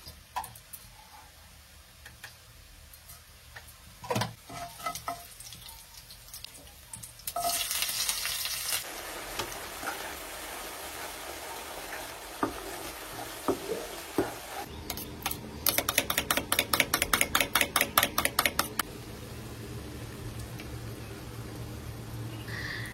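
Spices being fried and stirred in a pan for katla fish kalia, a steady sizzle broken by scraping stirs and a run of rapid clinking taps near the end, close and moderately loud with no talk.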